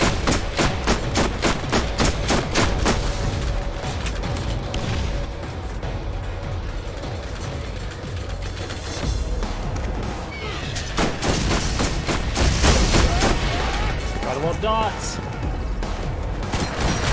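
Rapid gunfire and bursts of shooting in the video game Borderlands, loud and nearly continuous with sharp repeated shots and pops throughout.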